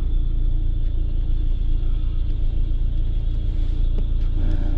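A car stuck in a bad traffic jam on a road out of a city, heard as a continuous, even low rumble of engines and road noise with faint clicks and no voices.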